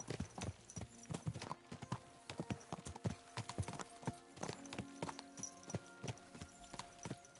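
Horses gallop in the medieval game Kingdom Come Deliverance 2, with rapid, rhythmic hoofbeats pounding steadily and close, layered over a faint background bed.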